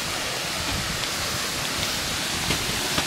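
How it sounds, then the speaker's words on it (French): A small waterfall gives a steady, broadband rush of falling water, constant and fairly strong, with no voices. "Ouais, petite cascade là-bas."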